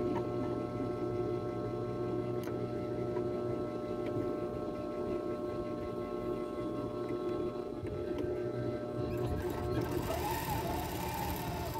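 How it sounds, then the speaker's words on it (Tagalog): A sewing machine stitches ribbon onto TV lace, a steady mechanical whir with a mains-like hum that runs unbroken and fairly loud throughout, with no voices over it. "Tahiin po natin siya dito."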